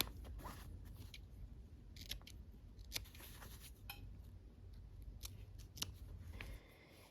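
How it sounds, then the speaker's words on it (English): Scissors snip the corners off quilt fabric, giving a quiet, close run of short crisp cuts that repeat over several seconds against a faint steady background hum. "now we are going to clip the corners to get rid of that bulk"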